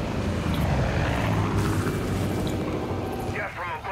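A propeller airplane drones overhead in the Far Cry 5 video game, a steady, loud engine rumble that holds for the whole stretch before easing slightly near the end, with no voices.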